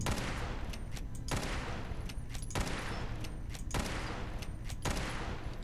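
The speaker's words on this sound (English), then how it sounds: "So I just shot 10 bullets there for the price of 5." Gunfire from the Old Reliable gun in Fallout 4, which fires two shots per trigger pull: five loud, evenly spaced bursts of rapid shots over a steady background rumble.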